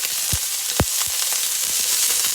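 Ginger stir-fried in very hot oil alongside garlic, a loud crackling sizzle broken by several sharp spoon-on-pan knocks and spattering pops, close by.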